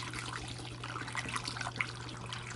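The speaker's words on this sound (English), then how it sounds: "Let's go ahead and get this poured in." Homemade grape and strawberry wine juice pouring through a funnel into a bottle, a soft steady trickle and splash of liquid, close and fairly quiet, with a low steady hum underneath.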